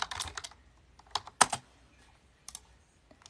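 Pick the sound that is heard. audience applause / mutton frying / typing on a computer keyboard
typing on a computer keyboard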